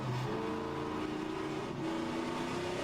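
Cuda race car engine from a racing game mod set in a Trans Am series, holding a steady loud tonal drone with a gear shift, continuous and close without talk.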